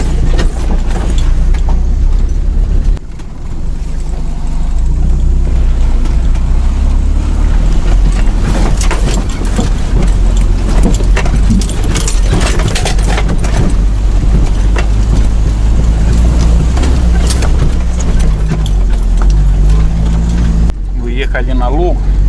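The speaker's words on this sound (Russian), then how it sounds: "В общем, едем на первой и второй передаче." A car crawls in first and second gear along a rough, rutted dirt road, with a loud continuous rumble and jostling rattles throughout while people talk over it.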